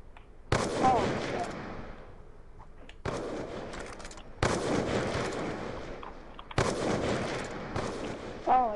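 Sniper rifle gunfire in Call of Duty Black Ops 2 during trick shot attempts: four loud, sharp shots spaced a few seconds apart, each ringing out and fading into a long echoing tail.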